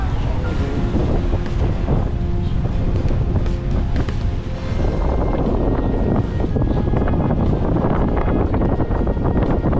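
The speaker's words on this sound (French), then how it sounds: "25 nœuds de vent." Strong 25-knot wind roars over a boat at sea making about 7 knots near cliffs, a loud, constant buffeting rush with water noise throughout.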